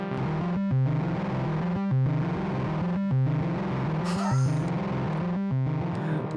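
A synthesizer plays through a cheap distortion pedal, producing a gritty, buzzing repeated riff in a steady rhythm with evenly spaced short breaks and a brief noisy swell midway.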